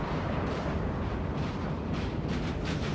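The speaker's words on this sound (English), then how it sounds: "It was artillery. It was a howitzer." Howitzer artillery fire in a Napoleon Total War multiplayer battle between the Danes and their rivals, a dense, unbroken roar of booming cannon blasts layered over one another for the whole stretch.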